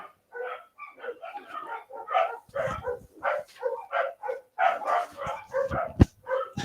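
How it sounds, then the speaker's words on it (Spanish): Several small dogs yap and bark in repeated bursts across the stretch, fairly close and loud, with no talk over them. "disculpen los perritos"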